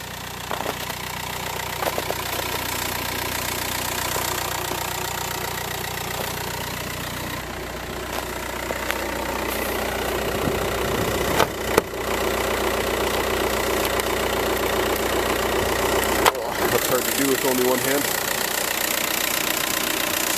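A car engine idling steadily nearby, a smooth continuous hum with a few clunks and brief handling noises over it.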